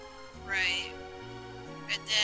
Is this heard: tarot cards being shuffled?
no